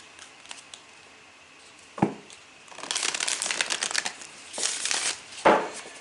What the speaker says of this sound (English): We're going to give these a little bit of a shuffle, shuffle, shuffle.